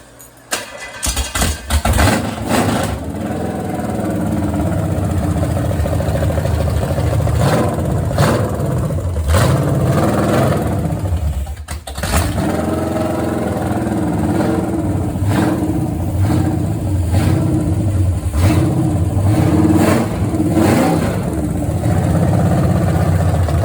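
A Pontiac GTO 400 V8 runs on a test stand during camshaft break-in with a Summit 2801 flat tappet cam, catching on a few quick starts before settling into a loud, steady, rumbling run that holds near and constant.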